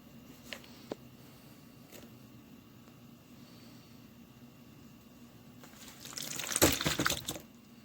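Water from decades-old canned food poured out into a tray, a short splashing gush building near the end after a few faint drips and clinks in a quiet room.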